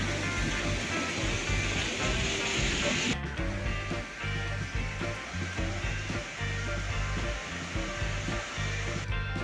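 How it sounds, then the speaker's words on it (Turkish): Steady broadband rush of a waterfall below a forest hiking trail, a constant roar that changes tone partway through as the listening position shifts, with no voices. "İple iniliyor ve bir şelale var aşağıda."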